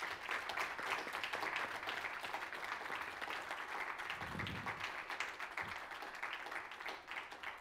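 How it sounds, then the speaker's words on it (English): A round of applause from a student climate seminar audience, with some participants on a video call. The clapping sounds faint and distant, a steady patter with no voices over it. "One round of applause for them and for Solveig as well."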